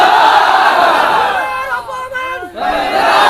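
A large crowd at a rally in Pabna shouts a takbir chant in unison, a loud sustained roar of many voices with rising and falling pitch, briefly dipping before surging back.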